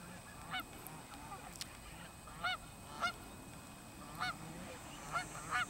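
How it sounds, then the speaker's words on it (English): A flock of geese honks in scattered, nasal calls at moderate distance, a few clear honks spaced every second or so over a steady low background hum. "Shut up, geese."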